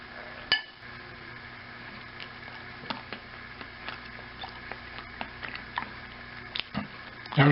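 A knife and fork cut roast beef on a plate, giving a scatter of light metallic clinks and scrapes against the dish, close and fairly quiet, with one sharper knock near the start.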